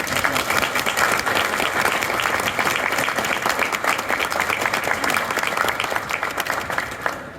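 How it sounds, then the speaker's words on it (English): An audience gathered at a London Charing Cross station event for a Network SouthEast livery Class 465 train applauds, thick continuous clapping that stays loud and fades slightly at the end. "Round of applause please to those"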